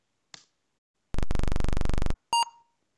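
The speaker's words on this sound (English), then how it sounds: "adjusting how long it waits between clicks will affect our frequency of the beep" A buzzy electronic beep tone produced by an assembly program's timing loop sounds for about a second, bracketed by brief clicks and a short higher beep, with silence between.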